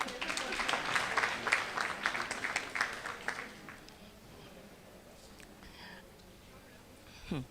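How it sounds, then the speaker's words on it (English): An audience at a law partners' inaugural event applauds a speaker, a burst of dense clapping for about four seconds that fades into quieter room tone. "Clap for her."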